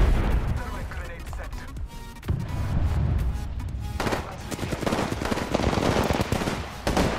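Rapid gunfire from a weapon in Apex Legends rattles in dense bursts, loud and close, with players talking in the background during the fight.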